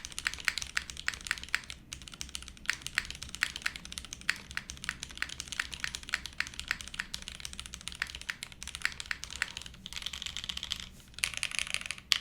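Steady rapid typing on a tenkeyless mechanical keyboard fitted with O-rings, a dense run of close, soft clacks with a short pause near the end.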